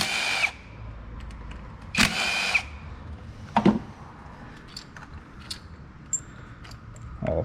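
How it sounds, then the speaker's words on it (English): A 10 mm socket on a power driver spins out coil pack bolts on a Chevy 2.4 Ecotec engine, two loud whirring bursts and a shorter third, followed by faint clinks and metallic taps in a quiet garage. "Come in here and remove the bolts for the coil packs."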